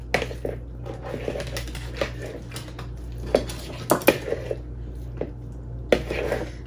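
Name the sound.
chopping tomatoes for guacamole in a bowl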